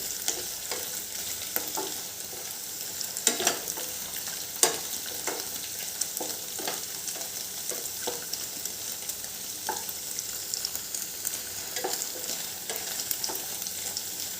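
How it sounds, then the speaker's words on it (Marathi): Frying in a little oil until crisp, for matar paneer, a steady close sizzle with frequent stirring scrapes and spoon taps against the pan, continuous and without talk. "थोड्या तेलामध्ये हे खरपूस असं भाजून घ्यायचं आहे"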